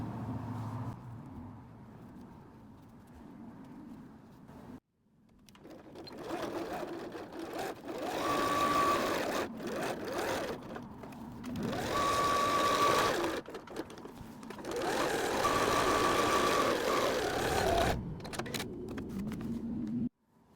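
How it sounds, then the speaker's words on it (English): A sewing machine stitches close to the edge of a beach bag pocket, holding the sides in place. The near, steady whirr runs in several long stretches broken by short pauses and changes of speed. "We're just stitching close to the edge just to hold it in place for now."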